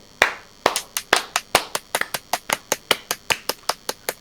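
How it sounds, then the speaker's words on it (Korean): One person claps hands close by, about a dozen and a half sharp, evenly spaced claps in a steady rhythm with no talking. "여기는 일단 박수 한번 치고 가죠"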